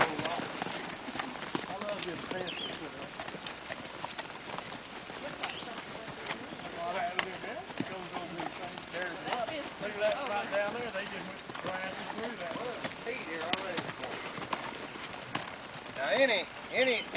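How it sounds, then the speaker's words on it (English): Soft, irregular hoofbeats of a gaited trail horse walking across ground, fairly close, with a steady background murmur and occasional louder thumps. "I will attempt here to demonstrate how an excellent trail horse should work a gait."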